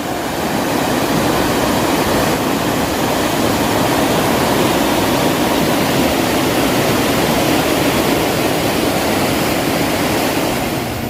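A swift river in rainy-season flood rushes with a loud, steady roar of heavy water, broadband and unbroken throughout, close by and with no voices over it.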